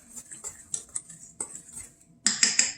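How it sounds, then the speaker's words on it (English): A utensil handle stirs flour, salt and sugar together in a bowl, giving a series of scraping, clinking strokes that grow louder and quicker toward the end, close up and with no talking. "use the handle and just kind of stir it together so that the salt and the sugar and the flour are all kind of blended together"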